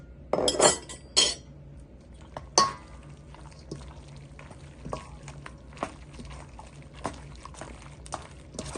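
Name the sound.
stirring pasta with parsley sauce, chili and parmesan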